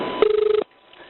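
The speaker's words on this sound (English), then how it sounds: "That new line is ringing now." A telephone line rings on an emergency call, one short electronic burst of rapid pulsing ring tone that stops abruptly, leaving near silence over a narrow phone-line sound.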